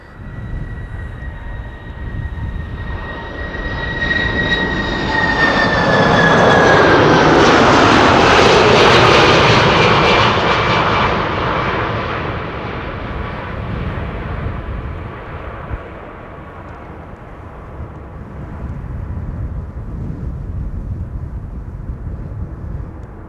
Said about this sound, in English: the A380 is passing overhead downwind